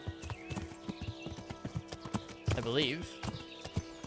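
Horse hooves clip-clop at a steady trot in the video game Kingdom Come: Deliverance, with a horse whinnying midway and a person talking over the rhythm.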